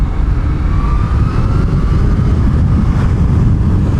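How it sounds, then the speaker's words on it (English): A 2020 Kawasaki ZH2 supercharged motorcycle under throttle, a loud, continuous engine roar mixed with heavy wind rush, with a faint rising whine running through it. "You just lay into the throttle just to hear that supercharger doing its thing."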